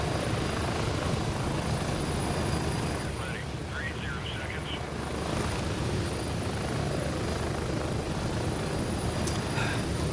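Helicopter rotor and engine drone from a PvEvP video game, a steady loud whir throughout with a faint voice briefly over it.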